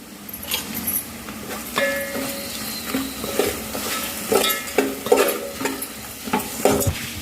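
Dried red chillies frying with spices for tomato rice, stirred around a pan with scraping and knocking spoon strokes over a light sizzle, close and fairly loud, irregular rhythm, no talk.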